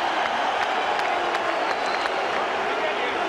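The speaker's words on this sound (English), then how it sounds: "the crowd are on Klitschko's side." A boxing arena crowd at the Klitschko versus Lewis heavyweight fight, a dense, continuous roar of cheering and clapping with scattered sharp claps, under commentators' talk.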